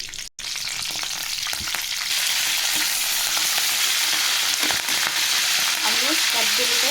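Green chillies and curry leaves crackle and sizzle in hot oil, a loud, close, continuous frying hiss with a brief drop near the start and small clicks of stirring throughout.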